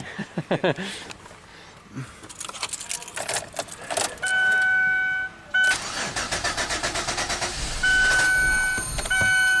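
A GM Equinox that won't start cranks on a jump pack in a shop. The starter whirs in long, loud, rhythmic runs, with chimes and clicks in between and faint talk early on.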